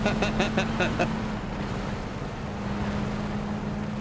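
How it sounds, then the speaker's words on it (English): A car engine drones in the PUBG battle royale game, a steady mid-distance motor hum running throughout, with a few brief clicks at the start. "I hear another car."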